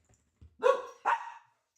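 A dog barks twice in quick succession, loud and close, with a short soft whimper or yip before the barks and a brief click at the end; no talk over it.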